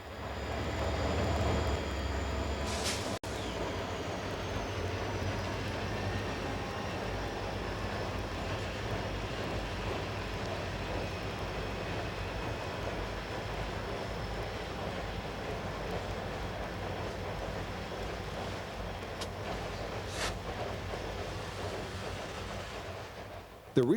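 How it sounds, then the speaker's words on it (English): A northbound Norfolk Southern freight train of hoppers carrying coke and coal rolls past at a diamond crossing over Conrail's water-level route. A steady rumble and rail clatter continue at moderate distance, with a couple of sharp clanks along the way. "a northbound Norfolk Southern train crosses over Conrail's water-level route"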